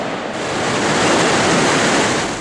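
Roar of a waterfall on the Rio Pastaza near a hanging bridge, a loud, dense, continuous rushing wash that fills the whole clip with no voices.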